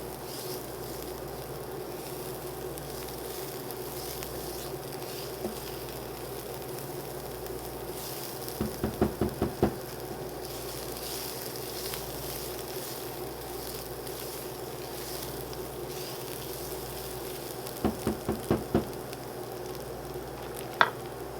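Vegetables stir-frying in a pan for cauliflower fried rice, a steady sizzle running throughout with a few brief bursts of scraping and clattering as the pan is stirred.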